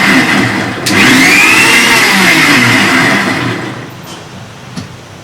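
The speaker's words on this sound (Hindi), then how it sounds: "तो फिर से एक बार इसको चर्न कर लेती हूँ सिर्फ 1 मिनट के लिए।" A blender churning frozen dry fruit vegan nice-cream: a loud, close motor whir that surges up after a moment, holds steady, then gradually winds down and fades.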